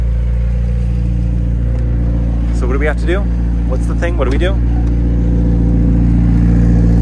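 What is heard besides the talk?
McLaren 765LT supercar engine revving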